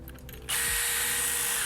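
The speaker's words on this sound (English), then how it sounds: "I'm gonna just use a 3/16 inch drill bit" A power drill spins up with a 3/16 inch bit to ream out a tight pin hole in a plastic Nerf blaster shell, a sudden loud, steady whirring grind after a few quiet clicks, close up, with no talk.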